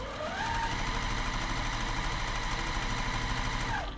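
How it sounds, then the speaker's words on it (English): A home sewing machine stitches a row of a beginner brick-pattern quilt, its steady motor hum running unbroken for about four seconds, close and fairly loud with no voices. "make sure that both the top and bottom fabrics stay aligned through the whole process of sewing down your row"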